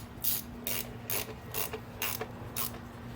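A ratchet with a 12 mm socket tightens valve cover bolts on a Toyota 1ZZ 1.8L engine, giving about seven crisp, rapid clicking bursts in a steady back-and-forth rhythm, close and clear over a faint low hum.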